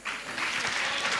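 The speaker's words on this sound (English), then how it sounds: "A big round of applause to our panelists" Audience applause for panelists at a sexual and reproductive health and rights conference, a dense steady patter of clapping filling the whole short moment with no talk over it.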